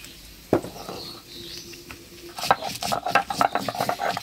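Scraping and clinking of a utensil stirring potatoes frying in a pan, with a soft sizzle underneath and an irregular rhythm of strokes.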